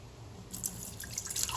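A cup of water poured into an Instant Pot while cooking chicken breast, a soft splashing trickle of liquid, faint and close.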